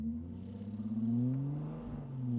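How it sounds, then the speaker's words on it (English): A car in The Grand Tour video game shaking with heavy vibration, a loud low engine drone that wobbles and pulses at first, then rises in pitch and sweeps down again. "Whole car's vibrating."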